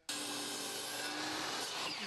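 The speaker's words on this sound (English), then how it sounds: "sawing a countless amount of wood" A steady, close rasp of a saw cutting through wood, continuous and fairly loud for a couple of seconds.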